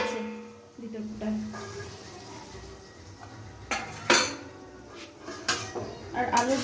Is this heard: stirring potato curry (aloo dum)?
yes